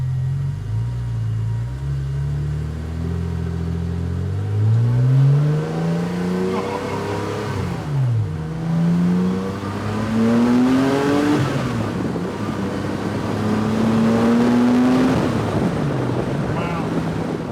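A car fresh from a major drivetrain upgrade, with a newly adjusted clutch, revs through several rising gear pulls while driving, loud and close, with strong wind buffeting the microphone.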